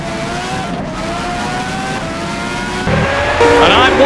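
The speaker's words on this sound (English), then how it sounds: "Nigel Mansell is being propelled by a French Renault V10 engine" A 1991 Formula 1 car with a French Renault V10 engine screams around Magny-Cours in rFactor 2, a loud, steady high-pitched engine whine that shifts up in pitch and intensity toward the end, with tire noise mixed in.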